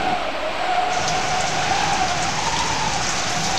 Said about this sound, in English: the rain fell non-stop like piercing sharp arrows